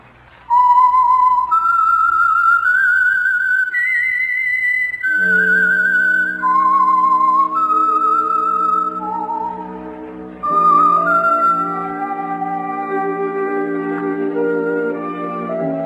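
Whistled theme melody for the radio mystery The Whistler, a clear solo whistle tracing a slow rising and falling tune, then joined by sustained orchestral chords underneath, loud and close with no talking.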